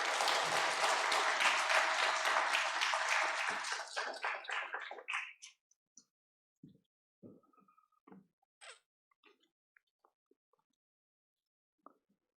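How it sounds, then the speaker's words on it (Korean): A church congregation claps to welcome a missionary at a Sunday service, a dense round of applause that fades out after about five seconds, followed by scattered faint knocks and small sounds in a quiet room. "박수로 환영하겠습니다"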